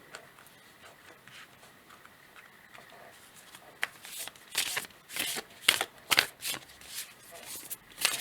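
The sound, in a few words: shuffling oracle cards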